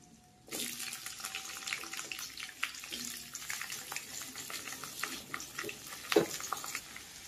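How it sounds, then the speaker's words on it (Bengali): Cut potato and pumpkin frying in a pan after chilli and five-spice seeds go in, a soft hissing sizzle that begins abruptly and continues fairly quietly, with occasional utensil scrapes and a sharper clatter near the end, no talk. "আলু আর কুমড়োটা ভাজা হতে থাক"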